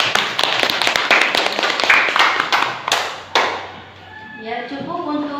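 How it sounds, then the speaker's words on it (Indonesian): Classroom applause: a run of sharp, uneven hand claps from students, close and moderately loud. It fades after a few seconds into a teacher's voice speaking. "Berikan tepuk tangan pada Mbak Intan."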